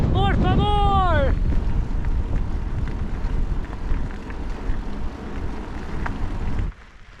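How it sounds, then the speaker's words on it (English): Strong wind roars against the microphone while a cyclist rides fast downhill. The buffeting is loud and steady, a brief voice cries out at the start, and the gusts drop away abruptly near the end. "It's so windy!"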